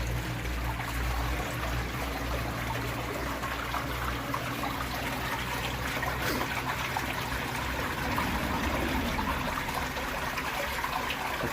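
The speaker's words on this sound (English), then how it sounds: "I've got a couple of leaks on the pump." A second-hand water pump with a split leaks during a water test, giving a steady, continuous trickle and splash of running water that holds evenly throughout without pause.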